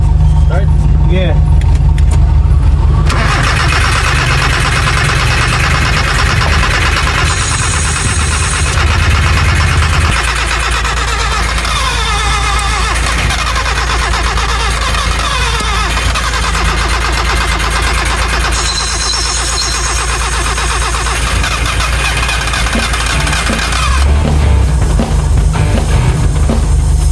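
An old project car's engine cranking and catching during a rare restoration, then running loud and rough with a heavy low rumble, its revs rising and falling, while people talk nearby.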